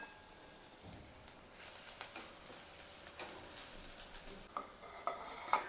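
Garlic sautés in a spoonful of oil in a wok with a faint, soft sizzle, while light stirring scrapes and taps sound near the end.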